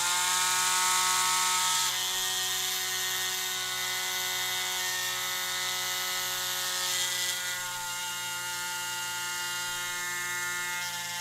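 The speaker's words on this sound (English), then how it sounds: "now we're gonna drill a hole through the center" A power drill whines steadily at a high pitch, its motor tone changing slightly as it works through the material.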